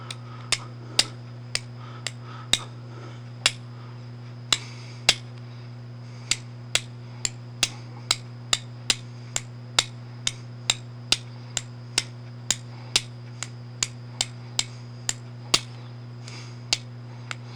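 A fire starter is struck again and again to throw sparks, producing about thirty sharp, evenly spaced clicking strikes over a steady low background hum.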